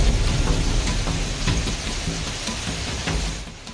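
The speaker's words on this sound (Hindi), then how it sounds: "ओले गिरने की आवाज इतनी तेज थी कि सब चौंक गए।" A sudden hailstorm over Kaushambi, Uttar Pradesh, with hailstones striking the ground in a thick, constant clatter that stays loud before easing slightly near the end, with no one speaking.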